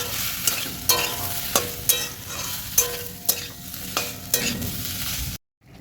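Taro stolons stir-fried in a pan for a curry, loud close sizzling punctuated by repeated sharp spatula scrapes and knocks at a steady pace, cutting off abruptly at the end.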